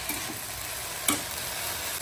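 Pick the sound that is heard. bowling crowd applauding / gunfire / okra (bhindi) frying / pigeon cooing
okra (bhindi) frying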